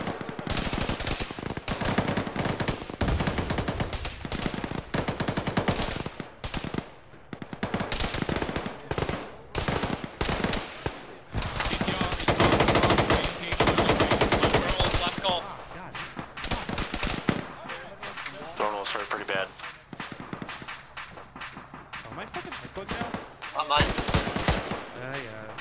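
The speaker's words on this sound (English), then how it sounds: "Shooting coming from Twerk." Gunfire in the video game Arma, with dense bursts of machine-gun and rifle shots, loud and close, then sparser shots after a lull, under frequent radio-style talk.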